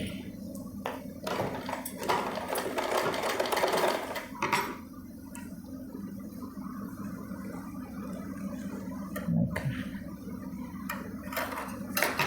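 Sewing machine running a long basting stitch along the centre of a Punjabi suit, a steady close mechanical whir with small clatters and knocks, no voices.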